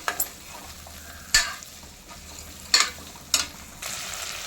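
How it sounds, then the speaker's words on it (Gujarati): Okra frying in a pan, a steady sizzle punctuated by several sharp stirring scrapes and clacks of a spoon against the pan at irregular intervals. "હવે હલાવી લઈશું થોડો, તો વગર ભીંડા હારે થઈ જાય ને, ભીંડો લાગે ને કે હા ભીંડો શેકાવા લાગે છે"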